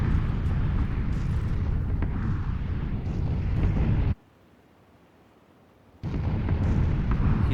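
Heavy rumbling carpet bombing explosions in a video game, loud and continuous, cut off abruptly into near silence for about two seconds before the roaring barrage resumes.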